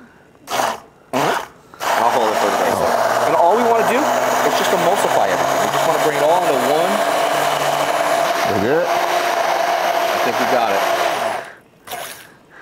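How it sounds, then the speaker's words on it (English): An immersion blender whirs continuously for about ten seconds while blending a Florida-style seafood stew, loud and close, after a few short bursts at the start. "have you played around with an immersion blender yet?"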